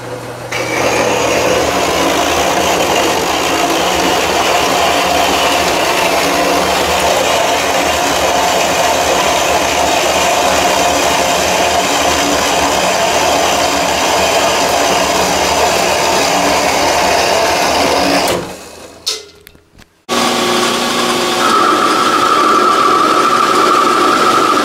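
A saw cuts through half-inch steel stock in a workshop, making a continuous loud grinding whine for about eighteen seconds. It stops briefly, then a higher steady machine tone starts up.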